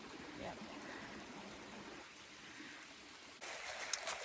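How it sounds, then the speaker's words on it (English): A mountain stream at a trail water source flows steadily nearby, a soft continuous rushing and trickling that swells louder near the end, with no other sounds standing out. "here's the stream crossing"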